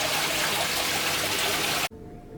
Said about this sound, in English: Because just about everywhere you turn, there's another waterfall.